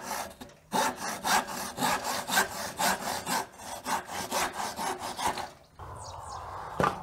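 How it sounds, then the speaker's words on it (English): A crosscut saw cuts across the shoulder of a wooden tenon in rapid, even back-and-forth strokes, close and rasping, then stops and is followed by a few light scrapes and a brief knock. "And now I'm gonna take my crosscut saw."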